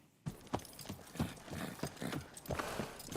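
Steady clip-clop of horse hooves on a soft surface, a regular rhythm of muffled thuds fairly close by, with no talking.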